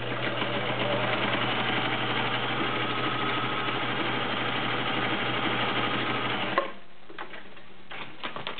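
A Viking 6370 sewing machine stitches a zigzag, a steady, fast mechanical whir with rapid ticking that runs evenly and close up for over six seconds, then stops abruptly, leaving only faint clicks.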